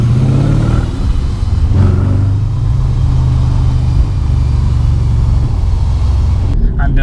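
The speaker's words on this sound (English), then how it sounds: "The whirring is on all RS4s." A loud, constant whir from an Audi RS4 B7 engine, a steady mechanical drone with low rumble that holds at an even level throughout, with no pauses.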